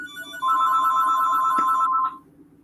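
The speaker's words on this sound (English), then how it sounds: "and your phone's ringing" A mobile phone ringtone rings loudly and steadily for about a second and a half, a sustained electronic tone over a low hum, then cuts off abruptly with the room falling quieter.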